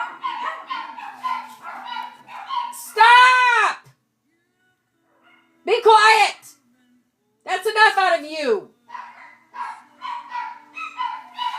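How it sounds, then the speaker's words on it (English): Four Chihuahuas bark and let out three loud, drawn-out howling yelps, close by, separated by quiet gaps while a person talks in between. "That's 4 Chihuahuas. The song of 4 Chihuahuas."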